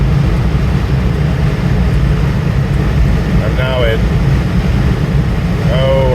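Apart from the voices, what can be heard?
1976 Cadillac Eldorado V8 engine driving at speed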